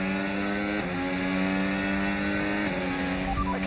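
Formula 1 racing car engine in a video game at Suzuka, a loud sustained high-pitched whine with harmonic engine tones that shift as the car changes speed through corners, with no talking.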